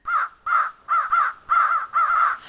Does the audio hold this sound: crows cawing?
yes